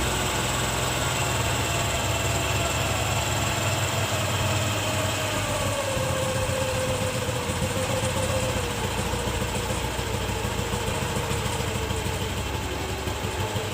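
A small engine idles steadily while its carburetor idle and air-fuel mixture screws are adjusted; the loud, constant running sound shows a slight drift in pitch as the engine speed shifts, with no voices.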